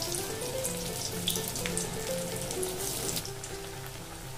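Methi and bajra tikki deep frying in hot oil over a medium flame, a steady crackling bubble with fine spatter running evenly throughout, fairly quiet and with no voices.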